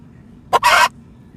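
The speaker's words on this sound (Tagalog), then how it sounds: "Ang daming manok sa kapitbahay." A neighbour's chicken lets out a single short squawking cackle in two quick bursts, fairly close and loud against a quiet background.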